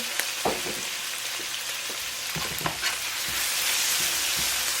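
Lamb leg meat searing in a hot pan on high heat, a steady close sizzle and crackle with a few louder pops and spatters, no voices.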